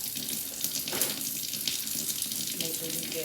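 Water runs from a sink faucet in a steady, hissing splash during handwashing, close and continuous with slight fluctuations as hands move under the stream.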